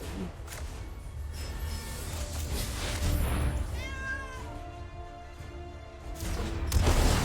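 Cat meows from the video game Magic Arena, a few short chirpy mews sounding over game music and effects, moderately quiet.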